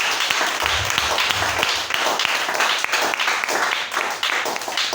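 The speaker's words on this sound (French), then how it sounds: "Acclamez très fort." Loud, continuous applause from a large audience at a gathering, dense clapping sustained throughout with no pauses.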